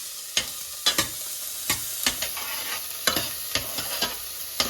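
Chopped onions are stirred in a hot frying pan while cooking chilli chicken: a constant sizzle broken by about a dozen sharp, close scrapes of the spatula in an uneven rhythm.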